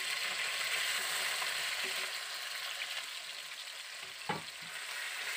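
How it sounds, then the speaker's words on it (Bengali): Onion paste and chopped tomato fry in a kadai with a steady, fairly loud sizzle that eases slightly partway through, and a single clack from a utensil is heard near the end. Nobody speaks. "এবারে আমি টমেটো এবং পেঁয়াজ বাটাটাকে ভালো করে কষিয়ে নিচ্ছি।"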